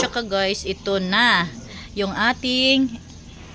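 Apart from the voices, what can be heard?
No everyday noises stand out.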